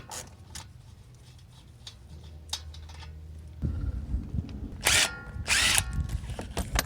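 A power tool spins off the ball joint nuts on a 2005 Acura TSX during front wheel bearing replacement, giving a steady whirring drill run followed by louder, close, rattling bursts.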